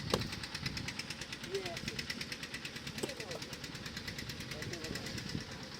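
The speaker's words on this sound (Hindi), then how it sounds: "ये ट्रैक्टर भी आ गया।" A tractor engine chugs nearby in a steady, rapid, knocking rhythm that runs throughout, rough and loud with a brief clunk partway through.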